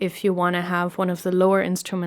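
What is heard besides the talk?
No distinct noise like a dog, phone or traffic.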